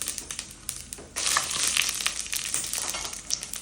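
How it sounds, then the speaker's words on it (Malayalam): Mustard seeds and dried red chillies splutter and crackle in hot coconut oil, a dense, close sizzling that grows louder after the first second and keeps popping steadily throughout. "ഒരു ടീസ്പൂൺ കടുക് പൊട്ടിക്കും"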